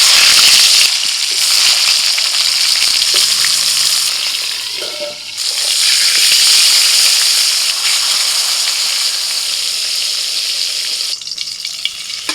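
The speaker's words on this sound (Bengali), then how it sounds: "এবার পটলটা ভেজে নেব।" Pointed gourd (potol) frying in hot oil in a kadai after potatoes, a loud, steady sizzle that continues throughout with a brief dip midway, no talking.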